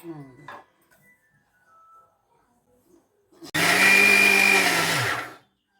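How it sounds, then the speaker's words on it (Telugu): A kitchen mixer grinder powders roasted multigrains and walnuts for homemade baby protein powder, starting with a sharp click and running loud and steady for about two seconds. Before it a voice speaks briefly amid faint rustles. "మిక్సీకి పట్టేసాం కదా"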